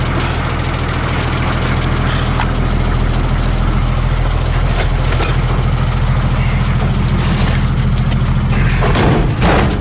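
A 1976 International Scout II Terra with a diesel engine and 4-speed gearbox pulls away slowly, its low, steady engine drone and rumble loud and close throughout, with a few knocks and rattles over the top.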